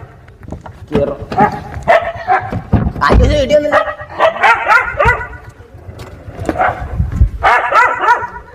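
Dogs bark and yip close by in short bursts, mixed with people talking and calling over them.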